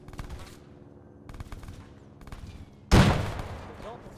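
Gunfire in the video game Arma 3 during an indoor grenade clearing, with sporadic bursts then a loud close blast at the end, under radio chatter.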